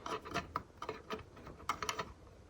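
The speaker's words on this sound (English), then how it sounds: "I've tightened down this nut with the socket." Socket wrench tightening a nut back onto a fitting on a Toyota MR2, heard as a series of quiet, irregular ratcheting clicks and rubbing scrapes close by, with no talk.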